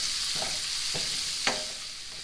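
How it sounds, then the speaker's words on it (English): Onions cooking over medium heat in a pan, a steady loud sizzle of frying with three short scraping stirs of a utensil cutting through it, no voices. "We're going to cook these onions 3 to 5 minutes until they're caramelized."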